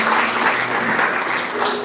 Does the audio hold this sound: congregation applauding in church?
yes